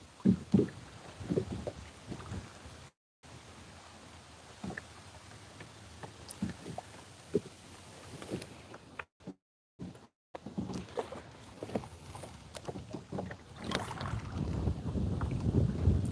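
Wind buffets a kayak on Pymatuning Lake, Pennsylvania, during a fishing outing, roaring against the microphone in uneven gusts with soft knocks and water patter, building louder toward the end.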